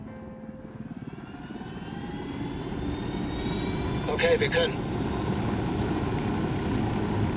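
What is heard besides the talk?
helicopter engine, from video game Ghost Recon Wildlands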